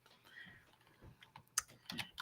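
Typing on a computer keyboard: a short run of irregular, close, crisp key clicks, with some soft talking mixed in.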